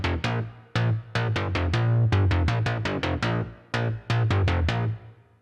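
Unison synth bass with a wide stereo spread pumps out a rapid sequence of punchy, bright plucked notes in tight rhythmic bursts, thick and full, loud and up front with no talking.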